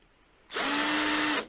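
Cordless drill driver whirring up to full speed in a single sustained run of about one second with a steady motor whine, close and loud, then stopping abruptly; used while fitting pallet-wood baseboards on a staircase.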